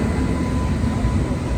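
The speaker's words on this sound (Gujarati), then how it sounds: "હવે જાય છે ટ્રેન જાય છે" Indian Railways freight train passing a junction, a steady loud rumble of wheels and wagons rolling by close at hand throughout.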